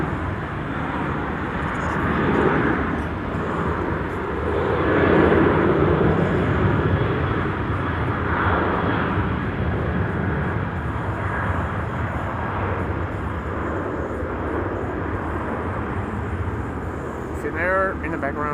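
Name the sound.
KLM Boeing 737-700 beginning its takeoff roll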